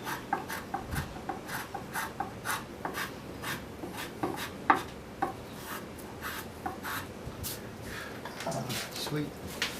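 A small wooden-bodied travisher or spokeshave shaves across a wooden chair seat in quick, irregular rasping strokes, close and fairly quiet, with someone talking over the work.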